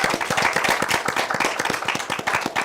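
An audience claps in a steady, fairly loud run of hand claps after a guest who started making face masks is introduced, with no talk over it.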